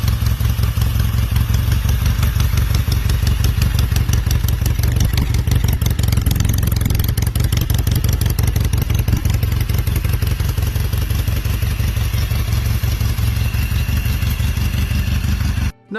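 A classic British Norton Commando motorcycle engine runs steadily close by, a loud, even clattering idle pulse that holds for the whole stretch before cutting off sharply at the end.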